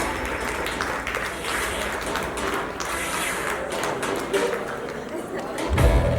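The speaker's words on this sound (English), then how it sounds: "Big round of applause for all our winners tonight" Audience applause for the winners at the Outlook Business Outstanding Women of the Year 2016 awards ceremony: a dense, sustained wash of clapping from a large crowd, with some chatter mixed in.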